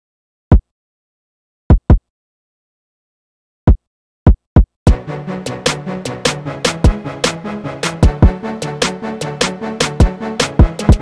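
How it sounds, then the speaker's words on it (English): BWB Kick 15 kick drum from the beat of a hip-hop track: a handful of sparse, punchy thumps in open silence, then a full pounding beat kicks in with the drum hitting repeatedly to the end. "This is the BWB Kick 15,"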